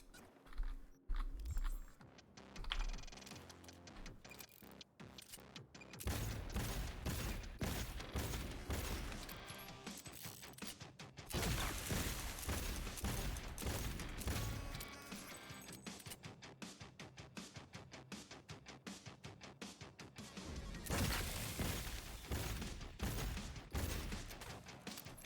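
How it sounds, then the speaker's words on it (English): Rapid bursts of automatic gunfire from a gun in the video game Cyberpunk 2077, long rattling volleys broken by short pauses, loud and continuous. "We need to try out this gun."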